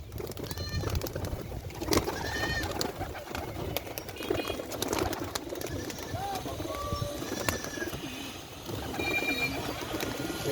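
Giribaz pigeons at a seller's loft coo repeatedly in soft throaty phrases, with scattered chirps and clicks over a busy outdoor murmur, close by and fairly steady.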